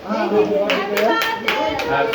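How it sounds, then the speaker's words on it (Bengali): Several people clap hands in quick irregular bursts at a casual home gathering with a cake, close by, mixed with children's voices and chatter throughout. "সবাই হাতে তালি দেন"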